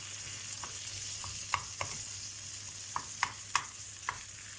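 Minced meat sautéing in a pan for a winter soup, a soft steady sizzle with a faint hum beneath and a handful of sharp spoon clicks against the pan scattered throughout.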